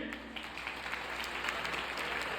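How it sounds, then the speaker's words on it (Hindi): Audience at a school alumni meet clapping loudly and continuously to welcome a teacher, a dense sustained burst of applause. "हम लोग जोरदार तालियों से आदरणीय श्री के पांडे सर का स्वागत करेंगे"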